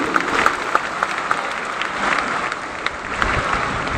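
A crowd gives sustained, dense applause welcoming a council assembly leader to the stage to deliver a presidential address at a Kongu community gathering. The clapping is steady and fairly loud for the full stretch, with no speech over it.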